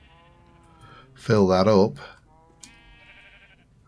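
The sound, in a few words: sheep bleating in a farming video game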